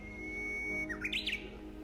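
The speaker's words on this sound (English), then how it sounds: "It's a harbinger of spring, a little teeny tiny bird with a big song." A tiny songbird in early spring delivers a short, bright burst of song over a quiet, faint background, a few quick rising and falling notes near the end.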